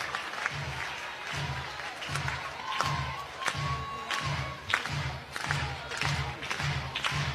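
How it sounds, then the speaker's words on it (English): A college softball crowd at an Oklahoma vs BYU game in 2024 cheers and claps after a strikeout, a sustained roar with rhythmic thumping beneath it and sharp whistles cutting through. "Crowd comes to life."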